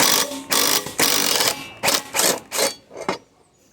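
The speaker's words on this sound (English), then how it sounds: "we have our 1/2 inch impact" A 1/2 inch impact wrench hammers at a lawn mower blade bolt in a string of about seven loud, close bursts, the early ones long and sustained, the later ones shorter and choppier with brief pauses between.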